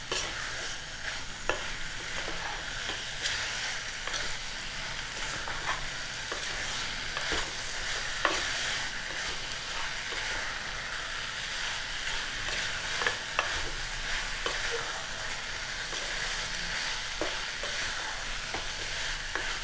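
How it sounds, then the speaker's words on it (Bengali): Mutton sautéed with turmeric, salt and ground spices in a pan, with a steady close sizzle and repeated scraping stirs of the spoon across the metal, continuous and loud with no talking. "সব মশলাগুলো দিয়ে খুব ভালো করে কষাতে থাকবো।"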